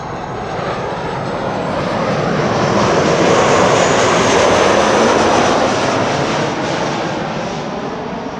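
KLM flight 924 from Edinburgh arriving at Amsterdam Schiphol on a sunny day makes a loud, continuous jet engine roar that rises gently to a broad peak and tapers slightly, heard alone without talk.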